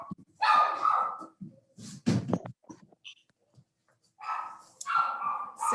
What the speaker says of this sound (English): that was my uninvited dog coming to the presentation